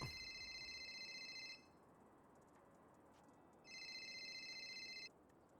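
A mobile phone rings in two bursts of a bright electronic ringtone, each lasting about one and a half seconds with a pause between them, heard faintly against a quiet background and with no talking.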